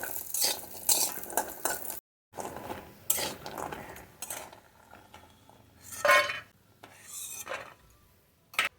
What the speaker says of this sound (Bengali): সবার প্রথমে ভেজে নেব বড়ি